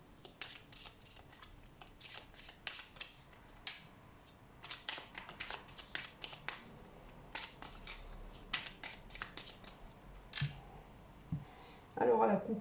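Oracle cards are shuffled for a divination reading: repeated quick riffling and slapping bursts at close range, fairly soft, running steadily alongside someone speaking French.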